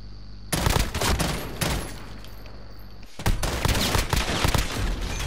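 Pistol gunfire rings out in Call of Duty: Modern Warfare custom-game play, dense rapid shots clustered in two loud bursts around a brief pause, with no voices.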